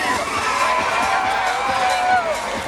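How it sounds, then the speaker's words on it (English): A crowd of children at Disney Studios screams together on cue, a loud, sustained mass of high shrieks and shouting that holds steady for a few seconds. "In 3, 2, 1, scream!"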